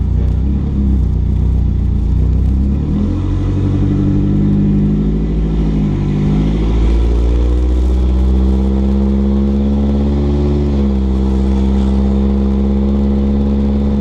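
A Hyundai Sonata driving on the road after repair, its engine droning loudly and steadily from close inside the cabin, rising in pitch as it accelerates through gears with a low rumble underneath.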